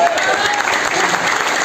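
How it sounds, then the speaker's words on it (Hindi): Audience at a mentorship talk clapping together, a dense, loud burst of applause filling the hall throughout. "एक बार ताली हो सकती है क्या?"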